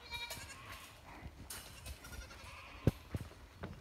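Nigerian Dwarf goats fed corn stalks from a garden give faint bleats amid soft rustling and a couple of sharp crunching clicks, quiet and close.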